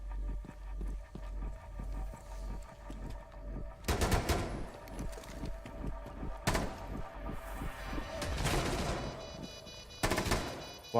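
Pistol gunfire in the Rainbow Six video game, a rapid series of sharp shots with several louder bursts spread across the stretch, all heard close up with game noise underneath.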